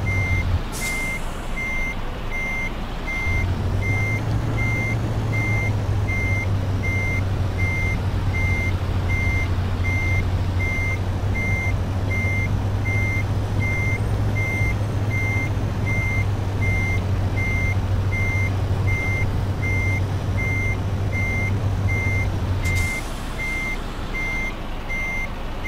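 A truck backs up in Euro Truck Simulator 2, its reversing alarm beeping in a steady, evenly spaced pattern throughout, over a low continuous engine drone that holds for most of the stretch before cutting out near the end.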